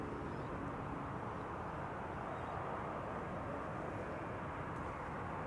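Qatar Airways airliner from Doha arriving at Amsterdam Schiphol, a steady broadband roar of jet engines held at an even, fairly distant level for the whole stretch with no talk.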